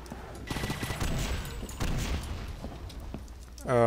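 A rocket launcher fires in the video game Painkiller, amid a rapid scatter of sharp shots and bursts, followed by a rising, louder roar at the very end.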